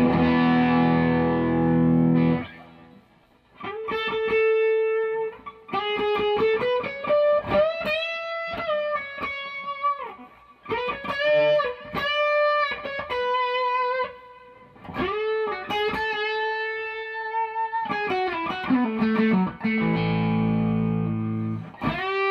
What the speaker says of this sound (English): This is the virtual vintage solo bridge pickup all by itself with an overdrive setting.